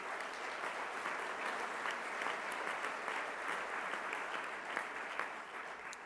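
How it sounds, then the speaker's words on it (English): A large conference audience at an opening plenary session in San Francisco gives sustained, dense applause for a city leader, steady and loud for the whole stretch with no talk over it. "Kevin Johnson, a big, big round of applause."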